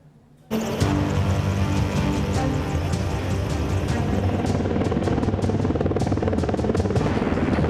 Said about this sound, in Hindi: इंडियन एयरफोर्स के बेड़े में शामिल हेलीकॉप्टर अपाचे AH-64E को दुनिया का सबसे खतरनाक हेलीकॉप्टर माना जाता है